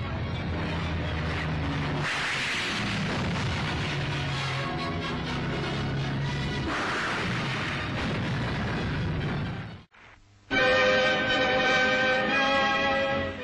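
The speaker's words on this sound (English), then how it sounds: "Seafires and Fireflies attacked a target towed astern with rocket fire," Rockets fired by Seafire and Firefly aircraft from the carrier HMS Triumph hit a target towed astern, giving long, rumbling blasts that swell and fade, then a sharp break and a harsher burst near the end.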